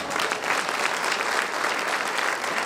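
Lively audience applause at a Hindi poetry recital (kavi sammelan), a dense steady burst of clapping from a crowd, loud and continuous for a few seconds with no talking.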